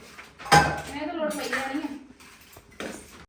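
Kitchen pots, pans and cutlery clatter as they are handled and put away, with a sharp metallic clank near the start and lighter knocks after it, all under someone speaking close by.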